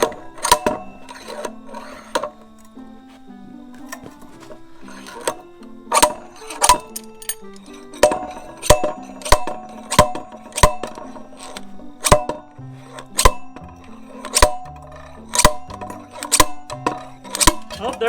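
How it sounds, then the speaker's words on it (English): Bearing puller working a loose wheel bearing out of a 2006 KTM 300XCW dirt bike wheel, giving a run of sharp metallic clicks and knocks at an irregular, quickening pace, close by with no talking. "All right, so we got the bearing puller in there."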